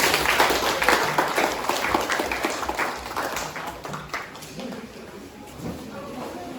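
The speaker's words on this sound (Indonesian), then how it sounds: "Dan kita kasih aplaus untuk Agil dan Fatur." Audience applause after a sermon practice session, a burst of many hands clapping that is strongest at the start and gradually thins out, with some voices mixed in.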